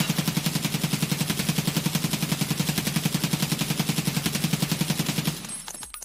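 A SCAR-L rifle in the game BSG fires a long, even full-auto burst of rapid, sharp shots that runs for several seconds before stopping abruptly.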